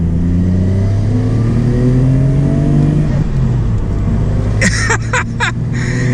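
A Nissan Skyline GT-R R32 engine drones steadily at moderate revs, its harmonic tones slowly rising and dipping as it pulls through the mid-range, with a few brief higher-pitched bursts near the end over continuous cabin noise.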